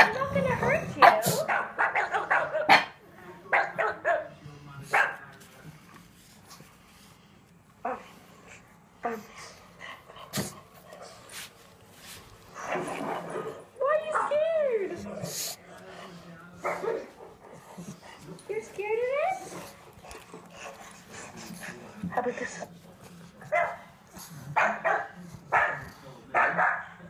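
Several small dogs bark, yip and whimper in short, irregular bursts at monkeys nearby, with sniffly sneeze-like snorts mixed in and a person talking between the barks.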